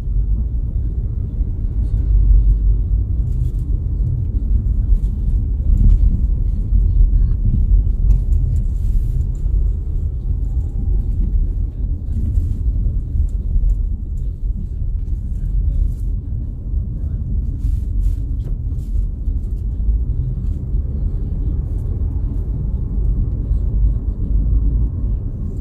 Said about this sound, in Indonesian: Kendaraan sedikit ramai.